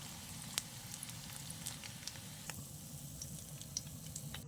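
Paneer frying lightly in oil in a kadai makes a soft, continuous sizzle with scattered sharp pops and crackles, heard up close and alone.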